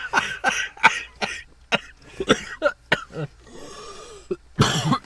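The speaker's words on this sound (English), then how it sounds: "Just now getting over a cough" A string of harsh coughs from someone getting over a cold, about eight bursts in quick, uneven succession, close by, with a rougher throat-clearing rasp near the end.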